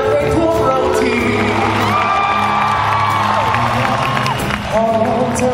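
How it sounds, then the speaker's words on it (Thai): A family Christmas audience claps and cheers loudly and continuously, with whoops and shouts rising over a steady run of music and a short dip near the end. "อยากให้ทุกคนปรบมือดังๆให้ทั่วเราที"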